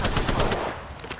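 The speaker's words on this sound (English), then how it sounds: "Shots fired." A rapid burst of automatic gunfire in Apex Legends, loud and close, with evenly spaced shots firing in quick succession before tailing off.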